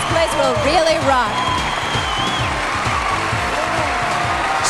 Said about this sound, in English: Listen to the crowd go wild.